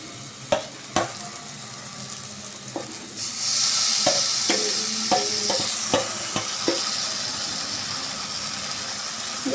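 Eggplant stirred into hot spiced oil in a pan for Bihari-style baingan bharta: a few sharp utensil clicks and scrapes, then a loud, steady sizzle rises and continues under repeated stirring strokes.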